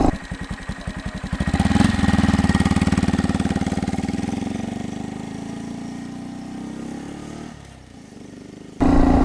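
A Honda Monkey motorcycle with an aftermarket intake pulls away from a stop at normal pace, starting with a chugging idle, then rising into a steady rev that fades slightly before a final loud burst.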